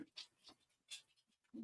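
A female dog panting in short, quiet bursts of breath, a few rapid puffs spaced across a moment, close by with no talk over it.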